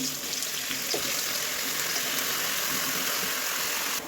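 Onions and green chilies frying in oil alongside vegetables in a home kitchen, giving a steady, dense hiss that runs unbroken for about four seconds with no talk over it.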